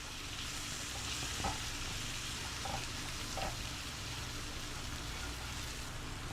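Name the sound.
butter and flour cooking in a pan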